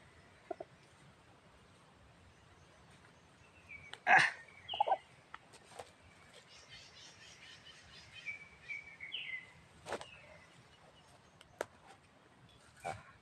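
Gamecock chickens give scattered short clucks and calls at moderate distance, with a louder burst of bird calls midway and sparse outdoor background.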